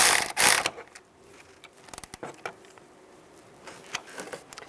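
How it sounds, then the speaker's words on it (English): Short metallic ratcheting clicks from a wrench tightening a ground wire bolt during transmission mount work on a 2010-2017 Chevrolet Equinox, a loud burst at first, then scattered close clicks and taps. "use a wrench and tighten that down"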